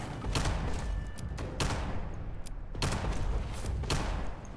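Several loud gunshots from a player's weapon fired at a Deathclaw in the Fallout 76 video game, spaced bursts about a second apart with sharp cracks and booming tails, no talking.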